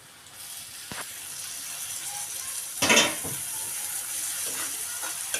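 Masala for masale bhat frying and being stirred in a pan, a soft continuous sizzle with a louder burst of scraping or sputter near the middle, no talk.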